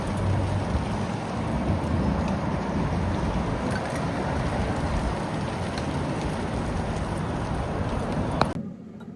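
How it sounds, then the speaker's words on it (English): Rain falls steadily for several seconds, an even, dense hiss with low rumble beneath, ending in a brief knock before it drops quieter. "Started raining now"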